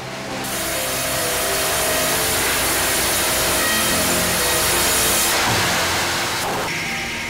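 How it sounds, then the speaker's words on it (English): A massive tree trunk is sawn lengthwise for organ-building timber at the Fratelli Ruffatti workshop, a loud, continuous, droning machine-saw roar that holds steady throughout, then shifts pitch near the end. "Each massive trunk is cut in two pieces lengthwise, then quarter sawn for the straightest grain."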